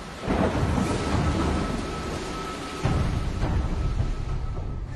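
A thunderstorm with rain and hail gives a dense, loud roar of falling precipitation with deep thunder rumbling underneath, the downpour surging stronger partway through.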